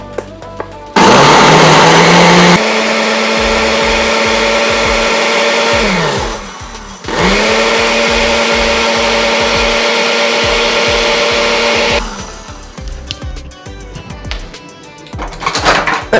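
A blender purees pumpkin soup with a loud, steady whir that dips briefly mid-run, then cuts out, followed by light clattering.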